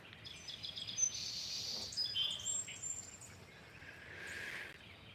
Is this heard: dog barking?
no